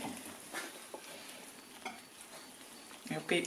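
A spoon stirs a runny, almost porridge-like bread dough in a bowl, giving soft wet sloshing and scraping sounds in uneven strokes, close and fairly quiet.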